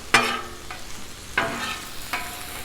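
Philly cheesesteak filling sizzling on a Blackstone griddle, a steady close hiss broken by three scraping spatula strokes spaced about a second apart.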